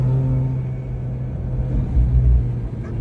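A 2004 Mazda RX-8 rotary track car driving in second gear hums with a steady low engine drone, swelling briefly in a mild rev before settling back, loud and close.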